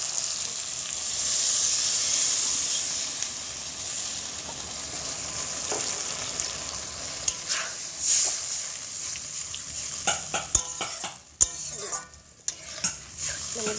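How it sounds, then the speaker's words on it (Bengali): Oil sizzles and crackles in a frying pan as water goes in for a Bengali guru fish curry with potato and eggplant, a steady close fry with scattered stirring clatters and sharper pops toward the end, no talk. "এখানে আমি এখন জল দিয়ে দিব।"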